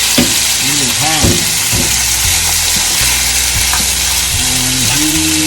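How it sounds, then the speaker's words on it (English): Pork strips frying in hot vegetable oil in a pan for a Japanese-style Chinese pork and bell pepper stir-fry, a loud steady sizzle throughout with scraping and stirring clatter, alone without talk. "When the pan is heated well, add in vegetable oil, add in the pork,"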